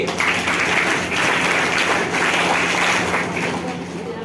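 A crowd claps steadily in sustained applause, loud and dense from start to finish.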